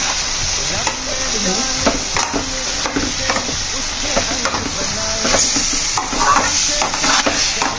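Dry chicken with Kashmiri red chili, ginger and garlic sizzles in a pan while being stirred, a loud continuous frying hiss punctuated by the scrape and clink of a spatula, with no speech.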